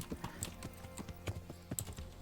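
Rhythmic clip-clop of horse hooves trotting at a steady pace in the video game Kingdom Come: Deliverance, fairly quiet and close, with no one talking.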